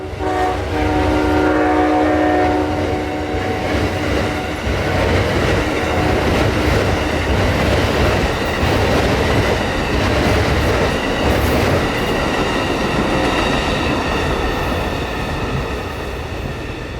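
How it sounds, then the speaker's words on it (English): An Amtrak passenger train rolls through Plant City, Florida, a loud, sustained rumble of wheels and cars passing close by, with a horn blast sounding early and clickety-clack continuing throughout. "an Amtrak train clearing Plant City"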